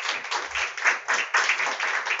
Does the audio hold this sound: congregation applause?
yes